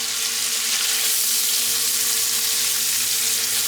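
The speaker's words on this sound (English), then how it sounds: "now we're going to add the bacon. And we're also going to add the onion." Bacon and onion fry in a pan with a loud, steady close-up sizzle and crackle that stays constant throughout, with no voices.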